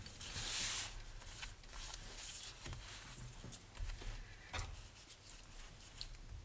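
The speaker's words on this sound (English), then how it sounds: "And I'll cut off a generous length here." Scissors snipping through a length of stitched satin ribbon at a paper-craft desk, a few soft cutting and rustling handling sounds close by.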